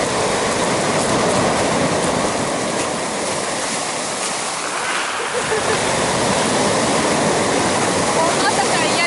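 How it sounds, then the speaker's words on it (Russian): Steady broadband roar of sea waves and surf close by in Adler, continuous and loud throughout, like water churning against a shore. "Сразу поднялась волна как-то."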